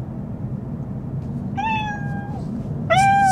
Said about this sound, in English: Hey Mercedes. How may I help you? How does a cat sound?